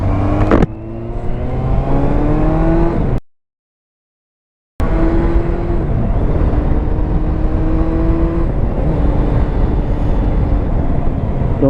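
A Yamaha Fazer 600 four-cylinder motorcycle engine revs loudly while riding, its tone climbing through the gears over rushing wind, cut by a short gap of silence before the steady drone resumes.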